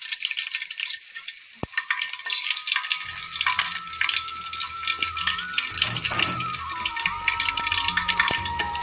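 Whole cumin, panch phoron and whole garam masala (cardamom, cinnamon, cloves) hit hot oil, and a loud, crackling sizzle fills the pan with bubbling pops and the scrape of stirring.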